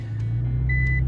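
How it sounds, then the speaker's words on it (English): Reversing beeps inside the cabin of a Nissan GT-R R35, a high electronic tone sounding over a loud low engine and road drone, close and steady. "you get that loud beeping. Like I said, it's only in the cabin, it's not outside."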